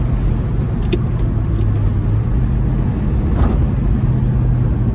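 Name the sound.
1967 Pontiac GTO car driving away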